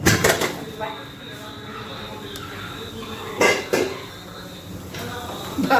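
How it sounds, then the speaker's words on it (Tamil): A tight-fitting lid goes onto a cooking pot of tubers simmering for halwa, giving a few sharp metallic clanks and clatters early and midway against faint kitchen background. "மூடி வச்சு வேக வைப்போம். டைட்டாக இருக்கும் மூடி, எங்களுக்கு டைட்."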